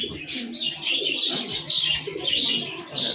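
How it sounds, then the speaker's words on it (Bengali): Doves call repeatedly in short chirping and cooing bursts, close by, with faint background sounds between calls. "এখানে ঘুঘু পাখি আছে"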